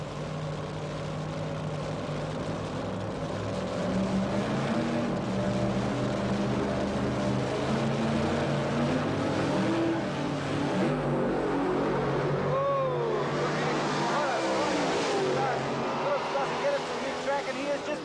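Keith Black-powered drag racing cars of about 484 to 584 cubic inches blast down the strip at a 1990 ANDRA meet, a loud sustained engine roar with a rising whine late in the run, heard under commentary.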